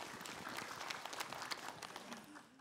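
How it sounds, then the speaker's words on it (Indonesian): Applause from a television studio audience at an Islamic talk show: a steady, moderately loud patter of clapping that lasts the whole stretch, with no voices over it. "Kasih tepuk tangan dulu Bu buat Pak Habib"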